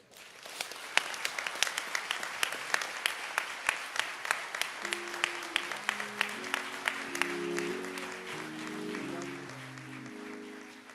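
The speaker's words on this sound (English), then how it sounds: "please give his family another round of applause" Applause at George Floyd's memorial service in Minneapolis, a crowd clapping steadily and fairly close for the whole stretch, with sharp individual claps standing out and a brief sung or hummed tone rising underneath partway through.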